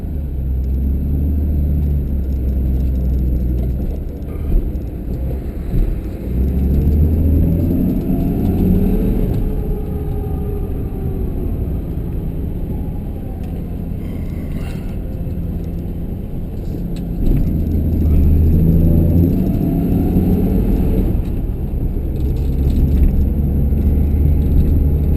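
A 1966 Ford Mustang coupe's engine runs high on the choke, a loud steady rumbling idle that holds for the whole stretch with slight swells in revs, close up and with no voices.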